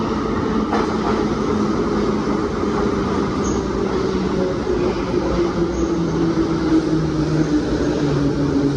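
A Kharkiv Metro train in motion, a steady, loud rumble and rolling roar of the carriage with a faint high whine and an occasional squeal, continuous for the whole stretch without talk.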